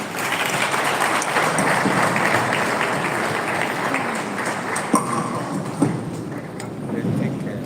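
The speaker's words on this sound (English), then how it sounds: "A better round of applause for the IG." Sustained applause from an audience at a stakeholders meeting on the Edo State governorship election, a dense, steady wash of clapping that holds for several seconds, with a few sharper claps near the end.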